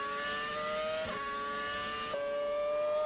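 Onboard a Formula 1 car driven by Felipe Massa at Suzuka during the 2006 Japanese Grand Prix, the high-pitched engine whine rises and snaps through two quick gear shifts, loud and close.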